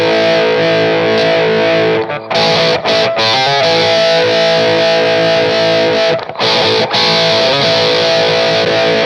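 A heavily distorted electric guitar played through an analog distortion pedal plays loud, sustained chords with a couple of brief breaks.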